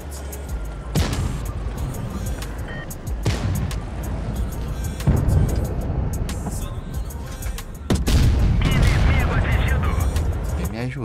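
Video game gunfire: sharp shots crack out in short bursts over a constant battle din, with players talking over the noise.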